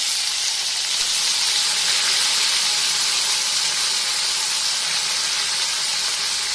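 Cut pieces of vettalai valli kizhangu, a betel-leaf yam tuber, hit hot oil in a pan and sizzle with a steady, loud, close hiss that holds evenly throughout, with no voices.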